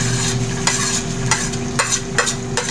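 Garlic fries in a hot pan of oil and margarine while being stirred for garlic shrimp. A close, continuous sizzle runs under regular scraping strokes of the spatula.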